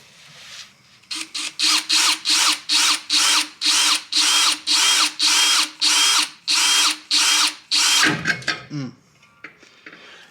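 A power drill bores through metal near the wheel and rotor of a Chevy Silverado in about fifteen short, loud, evenly paced bursts, close up, ending with a few scraping clatters.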